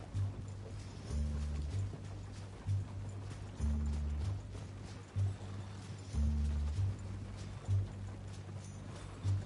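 Hooves of a galloping horse in a Western video game: steady rhythmic clip-clop, close and moderately loud over a low rumble, with no talking.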